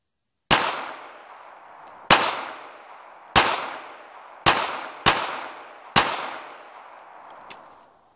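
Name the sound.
gunshots from a Smith & Wesson Bodyguard 380 pistol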